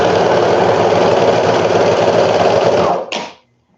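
A sewing machine runs steadily and loudly while sewing baby ruffle bloomers, then cuts off abruptly with a brief clatter and falls silent.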